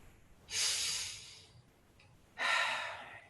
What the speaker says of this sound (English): Let's take a few deep breaths in and out.